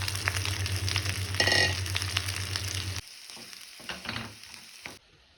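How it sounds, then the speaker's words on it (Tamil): Sliced onions sizzle in a pan with fennel and curry leaves for a chicken varuval, a loud steady frying hiss with a stirring clatter that drops away halfway through, leaving fainter crackles. "பாருங்கள், அந்த வெங்காயத்தை இதில் போட்டுட்டேன்."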